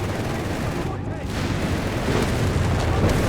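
Artillery bombardment rumbles through a video game battle as a dense, continuous wash of booming explosions and gunfire, loud and close throughout with no clear gaps between blasts.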